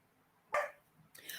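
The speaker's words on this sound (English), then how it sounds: "I don't know what he's barking at." A dog barks behind a shut door, two short muffled bursts a moment apart, fairly faint against a quiet room.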